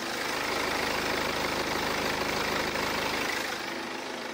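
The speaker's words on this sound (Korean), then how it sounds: "이 정도의 기본적인 엔진 떨림 소음이 나고요" A BMW 118d diesel engine idles steadily, a low rumbling drone with a constant vibrating throb and no voices.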